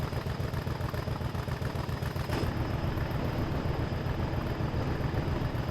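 Idling train engine, the Whistler, in a train game: a steady, even low chugging drone with a faint high whine above it, holding constant throughout with no voices.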